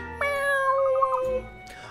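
A cat in the video game Layton's Mystery Journey gives a single clear, drawn-out meow that wavers in pitch. It is close and alone, with no talk.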